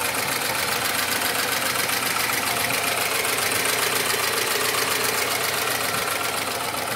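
A Lada Niva's 1.9-litre, 120 hp engine runs steadily at idle, a constant close mechanical hum with a faint ticking texture and no pauses throughout.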